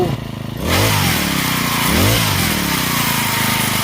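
A small two-stroke brush cutter engine runs with a broken drive shaft so the blade does not spin. It starts loud and close, revs up twice, then settles into a steady buzzing drone with no other sound.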